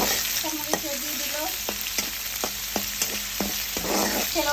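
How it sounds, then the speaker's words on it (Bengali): Fish frying in a pan with onion, chili, salt and spices, a steady close sizzle broken by several sharp stirring scrapes and clinks, with no talking. "এই তো মাছটা ভাজা হয়ে যাচ্ছে।"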